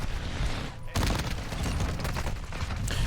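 MX Guardian shotgun blasting in a first-person shooter, a rapid string of loud, close booming shots after a brief lull, with a voice speaking faintly underneath.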